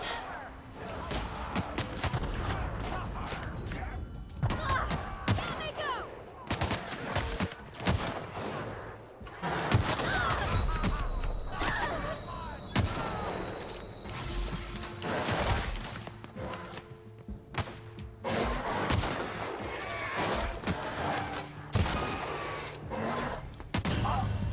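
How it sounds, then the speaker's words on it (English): Gunfire in The Outer Worlds video game comes in scattered bursts of sharp cracks and rapid volleys spread across the stretch, with a voice talking now and then between and over the shots. "Nope, nope, they're shooting."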